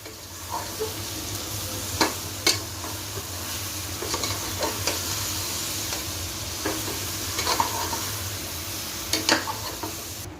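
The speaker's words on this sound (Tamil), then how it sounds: "இப்போது பலாக்காயை சேர்த்து நல்லா வதக்கி கொடுத்துட்டேன்" Raw tender jackfruit pieces sautéing in a pan for biryani, a steady close sizzle with a few sharp scrapes and clinks of the stirring spoon, no voices.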